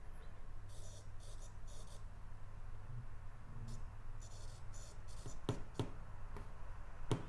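An S Pen stylus writes on the screen of a Samsung S22 Ultra, giving faint, soft scratchy strokes in short bursts, with a few sharp taps near the end against a quiet background.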